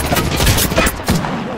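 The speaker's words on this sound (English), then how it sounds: "let me see if I can get a sniper on her too" Loud close bursts of gunfire from the video game Apex Legends fill the whole moment, several rapid shots overlapping with game noise.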